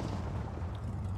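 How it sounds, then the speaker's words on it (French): Explosion damage in the Mad Max video game, a dense low rumbling blast that stays loud and sustained for about a second with no talk over it. "on a trop bien fait les dégâts d'explosion dans ce Mad Max."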